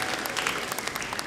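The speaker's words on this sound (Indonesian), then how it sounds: "Tepuk tangannya mana?" A crowd clapping together, dense and steady applause throughout, fairly close.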